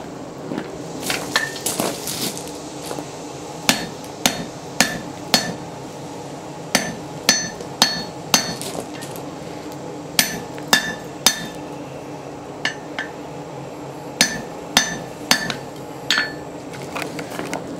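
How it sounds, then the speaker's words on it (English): A hammer forges the head of a rock hammer being reshaped into a bowl adze, ringing in sharp, evenly spaced metallic blows, often in pairs, close and loud over a steady low shop hum. "while I'm forging the other end"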